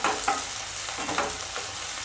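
Sweet corn kernels stir-fry in a pan for a stuffed capsicum filling, giving a soft steady sizzle with a few light scrapes of a spoon, fairly quiet and close.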